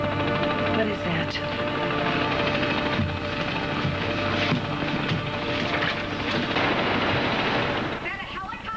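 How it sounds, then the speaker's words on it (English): Helicopter landing nearby in an outdoor setting, a loud continuous rotor and engine roar with wind buffeting that fills the whole stretch without letup. "Is that a helicopter? What on earth is... It's landing."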